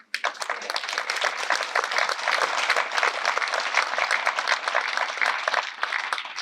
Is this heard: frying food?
no